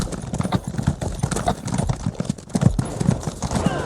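Horse hooves clip-clop in a quick, regular rhythm in the video game Elder Scrolls Online, close and clear, with a continuous patter of steps over a few seconds.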